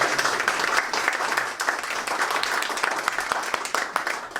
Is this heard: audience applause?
yes